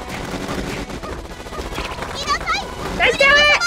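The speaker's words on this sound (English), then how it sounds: "The guns are blazing!" Rapid gunfire in the video game Panty Party, fast crackling bursts under excited talking and chirpy game effects.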